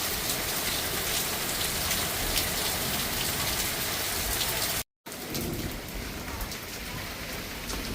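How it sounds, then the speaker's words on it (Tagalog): Steady heavy rain falls in an unexpected downpour amid hot weather, a dense continuous hiss on surfaces with no voices, cut briefly by a short silent gap before the drumming resumes just as strong. "Pero unexpected talaga yung ulan ngayon."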